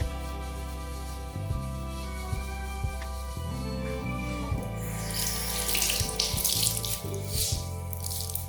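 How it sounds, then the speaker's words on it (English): Tap water runs steadily into a sink while a face is splashed and rinsed with cold water, a close continuous stream that grows louder and more splashy toward the end, with no talking. "I usually splash my face with cold water a few times as well to make sure everything gets rinsed off"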